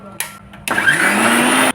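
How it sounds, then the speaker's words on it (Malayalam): A kitchen mixer grinder grinds grated coconut in its jar: a short, whining motor burst of about a second, loud and close, after a brief start-up pulse. "നമുക്കിത് മിക്സിയുടെ ജാറിലേക്ക് ഇട്ട് കൊടുത്ത് നല്ലോണം ഒന്ന് അരച്ചെടുക്കാം"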